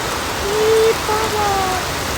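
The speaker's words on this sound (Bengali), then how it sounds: "কাল বৃষ্টি পড়ছে" Heavy rain pours down steadily in a continuous dense hiss, with a faint voice-like tone briefly rising over it.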